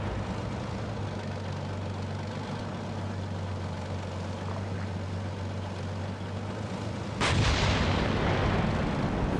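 A tank's engine drones steadily in the Steel Beasts video game, then a single loud cannon blast booms near the end with a rumbling tail, and no one speaks.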